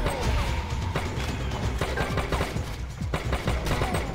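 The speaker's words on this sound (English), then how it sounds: "Oh, I can shoot the cover." Rapid gunfire rattles through a frantic shootout in the Major Mayhem mobile shooter, with dense bursts, sharp individual shots and crashing impacts filling the whole stretch at steady loudness.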